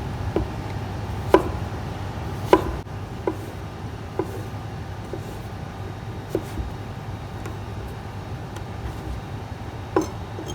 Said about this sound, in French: On va détailler dans une brunoise très fine.